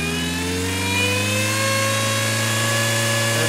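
A remote-controlled 8x8 Mudd-Ox amphibious vehicle's engine revs up in forward low range, a loud steady drone climbing in pitch, close by with no talking.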